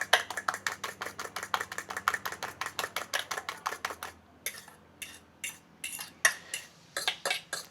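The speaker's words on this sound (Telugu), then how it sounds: "ఎగ్ని మనం ఎంత బీట్ చేస్తే అంత ఫ్లఫీగా వస్తుంది" A fork whisks eggs briskly in a bowl for fluffy omelette batter, giving a fast, steady run of close metallic clinks that pause briefly, then resume in looser, uneven strokes.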